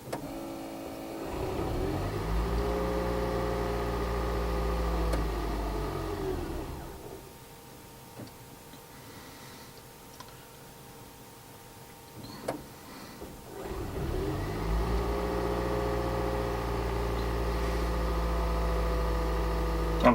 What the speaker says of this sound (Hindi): गाड़ी का पेट्रोल इंजन ऑन होगा